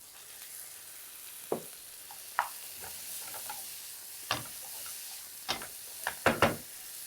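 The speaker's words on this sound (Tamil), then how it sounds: "அடுத்ததாக நம்ம இப்போ சிக்கன் ஆட் பண்ணிடுறோம்" Chicken going into a pan with tomatoes for Karaikudi curry-leaf chicken, faint sizzling under scattered clinks and scrapes of a spoon stirring, several sharp metallic taps near the end.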